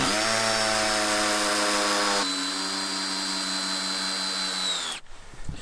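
A power drill driving 20 cm screws into pallet wood for a raised bed, a loud, close, sustained whine that drops in pitch partway and cuts off near the end.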